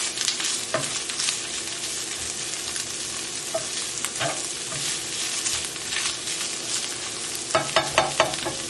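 Salmon frying in olive oil in a pan gives a loud, steady sizzle throughout, broken by occasional clicks and scrapes of stirring.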